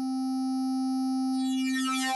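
A Flux wavetable synth in HALion Sonic holds a single sustained note: a steady, bright harmonic tone that starts clean, then grows shimmering and swirling in its upper range as envelope and LFO modulation take effect, heard alone.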